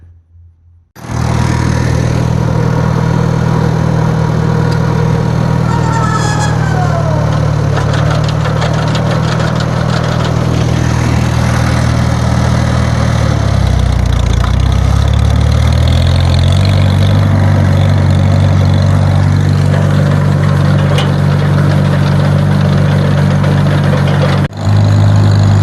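A tractor engine runs steadily while tedding hay in a field, a loud, close, continuous low drone with a strong rumbling hum that dips briefly in pitch midway and carries on without talk.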